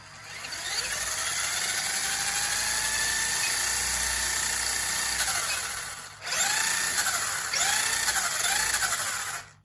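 A RACENT Crossy 1/16-scale RC truck's electric motor whines at throttle, a steady high-pitched hum for about six seconds, then a brief cut followed by several quick rising-and-falling revs, close and loud with no talk.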